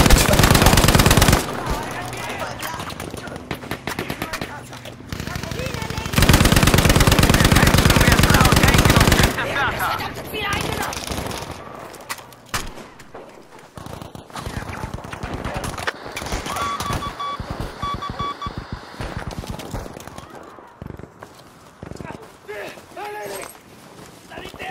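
A Lewis Gun light machine gun firing in Battlefield V on the Fjell 652 map, two long loud sustained bursts of rapid automatic fire, then scattered distant shots and battle noise with voices talking.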